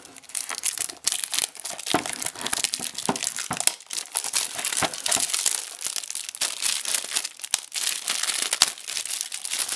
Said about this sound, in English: cellophane coming off.